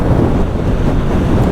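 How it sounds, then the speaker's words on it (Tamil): Strong wind buffets the microphone while a motorbike cruises at about 95 km/h, a loud, continuous low roar with no break and no talking. "செம்ம காற்றுங்க"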